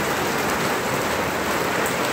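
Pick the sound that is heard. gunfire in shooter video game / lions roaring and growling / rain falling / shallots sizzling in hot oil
rain falling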